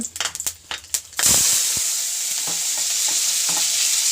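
After a few clattering knocks, chopped tomato and ginger hit hot oil in a kadai and burst into a loud, steady sizzle. A few light scrapes of stirring follow.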